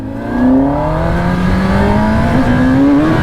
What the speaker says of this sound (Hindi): ये होगी हमारी बाइक स्टार्ट